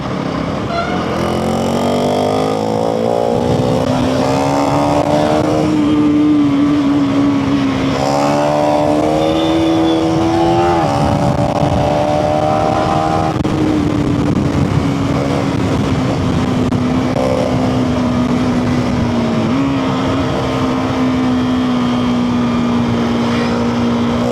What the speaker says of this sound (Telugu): నా బండిలో ఇంత స్పీడ్ ఉందా?